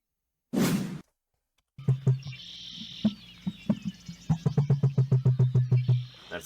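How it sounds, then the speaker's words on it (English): A large bird gives a low drumming call, a series of deep pulses that speed up into a rapid rhythmic run, after a single breathy whoosh near the start. The calls come close and clear with no talk. "That's the drumming there that you're hearing."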